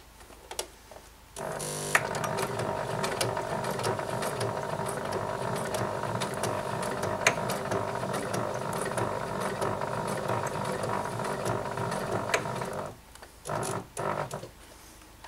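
A sewing machine stitches a patch onto a five-panel cap, running steadily and close for about eleven seconds after a brief start, with short pauses and stops at either end.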